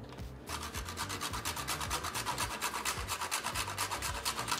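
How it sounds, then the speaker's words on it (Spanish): Whole nutmeg is grated for a homemade burger, making a steady run of quick, rhythmic rasping strokes. The scraping is close and clear, with no talk over it. "le vamos a agregar nuez moscada"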